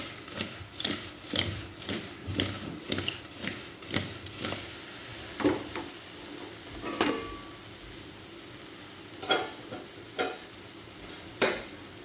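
Devdangar fruit being stirred and turned in a cooking pot, a series of soft scraping, knocking strokes at an uneven rhythm over a quiet background, close and faint.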